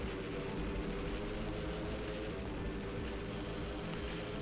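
A PC-21 turboprop trainer drones steadily in a flight simulator game, a constant engine and propeller hum with no breaks and no talk.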